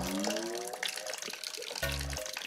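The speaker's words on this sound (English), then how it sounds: "Is it going in the bucket? Now it is, yeah. Is it water? Yes, it's water." Water from a leaking roof falls into a bucket indoors, a faint trickling and splashing that comes and goes in short bursts, with no one talking over it.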